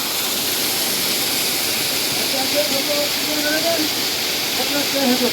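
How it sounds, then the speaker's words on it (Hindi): Steady rushing water from a waterfall beside the Kedarnath pilgrimage trail in the Himalayas, a constant loud broadband roar filling the whole clip, with faint voices or tones drifting over it. "तो आपको केदारनाथ धाम यात्रा में इस तरह की कई सुंदर झरने दिखेंगे रास्ते में।"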